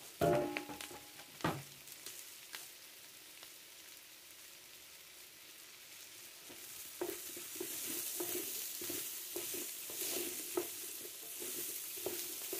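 Sliced courgettes sizzle and fry in an oiled pan for a Provençal spelt sartanade, with occasional scraping stirs early on, then a steady loud crackling sizzle building through the rest.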